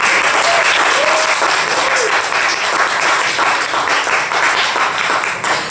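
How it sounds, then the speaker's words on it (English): Audience applause at a comedy open mic night in a cafe, a sustained burst of many hands clapping, loud and close, tapering slightly near the end. "Go ahead and clap your hands one more time."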